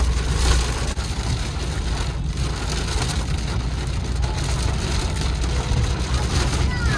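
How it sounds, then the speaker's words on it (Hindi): Heavy rain pours down in Chandigarh as a dense, unbroken roar of hiss and patter. It stays steady and loud from start to finish. "बहुत तेज बारिश है, बहुत ज्यादा तेज बारिश स्टार्ट होगी।"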